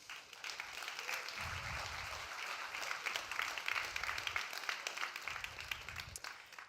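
Sponsors of the MECC Team and Individual Championships semi-finals get a round of applause from the audience, a steady wash of many hands clapping, sustained and moderately loud throughout, with occasional low thumps beneath.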